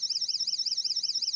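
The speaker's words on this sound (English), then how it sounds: "Okay, now if you can hear that little alarm, that's coming from my K2 meter." A K2 EMF meter's alarm sounds close up as a rapid, warbling electronic tone, rising and falling in pitch many times per second, steady and alone.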